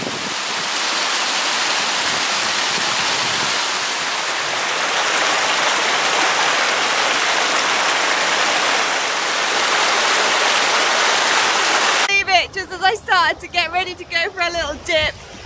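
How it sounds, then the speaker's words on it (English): Heavy rain shower pouring outdoors in the Peak District, a dense, loud, continuous hiss lasting about twelve seconds before a person starts talking over it. "I thought it might just be a little shower, but I'm getting soaked"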